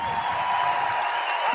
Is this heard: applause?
yes